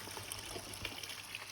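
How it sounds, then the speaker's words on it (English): Water running from a pool jet into a swimming pool while it is being filled for vacuuming, a soft steady trickling and splashing wash that stays faint and continuous throughout. "So I'll use my jet to fill it up."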